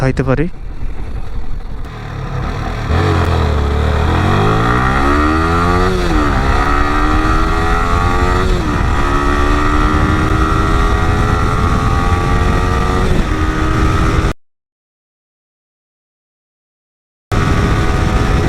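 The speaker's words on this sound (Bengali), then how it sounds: "যখন আর পিএমটা একদম হাই করে টান দিতেছি তখন মনে হইতেছে বাইক আমার পেছন দিকে ঠেলা দিতেছে" A stock Yamaha R15 v3 BS6 motorcycle accelerating hard through a 0-100 run, its loud close engine note climbing in pitch and dropping at each gear change, repeated several times before a sudden stretch of silence.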